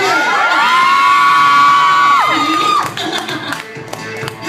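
A contest audience shouts and cheers loudly for a contestant, a sustained wall of whooping voices and a high shriek that fades into scattered claps and chatter.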